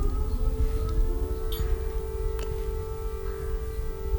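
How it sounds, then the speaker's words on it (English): A steady wailing air raid siren drones on continuously at a distance in Kyiv, holding a sustained tone over low background rumble, with no talking. "And we have air raid. You hear?"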